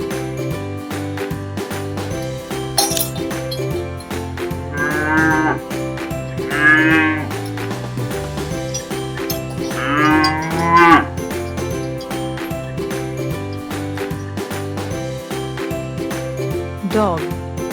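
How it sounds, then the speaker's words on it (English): A cow lows several times in drawn-out moos, spaced apart over a steady rhythmic musical backing with light jingling. "Cow,"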